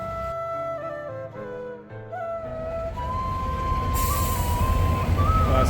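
Buses at the Sip Amir bus terminal serving hajj pilgrims: hissing air brakes and sustained tonal whines over a low engine rumble, with the noise swelling louder and broader toward the end.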